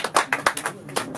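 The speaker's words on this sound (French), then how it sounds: "On l'applaudit pendant qu'elle réfléchit" An audience claps for a young girl reciting a poem at a children's Christmas show, with bursts of scattered, fairly close hand claps coming in an uneven rhythm over about a second.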